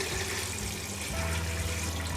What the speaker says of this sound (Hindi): फिर आप इतना पानी डालें कि आपके पाए जो हैं वो पानी में डिप हो जाएं।